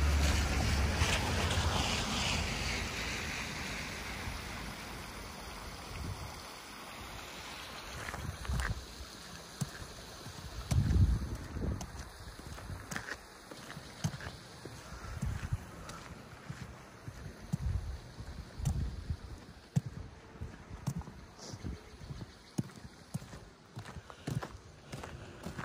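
Flowing water of a Grout Creek tributary near Big Bear in winter, a steady broadband rush with wind, louder at the start and then holding at a moderate, continuous level with no voices.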